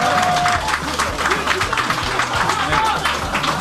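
Applause and crowd noise fill an outdoor slalom race award ceremony, steady clapping throughout with a voice over a loudspeaker talking across it.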